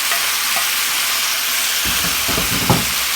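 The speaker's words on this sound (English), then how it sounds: "I'm going to add this into the skillet over here." Sausage, onions and mushrooms sizzle loudly and steadily in a skillet, a dense close hiss with a few low clunks and scrapes as the food is moved around near the end.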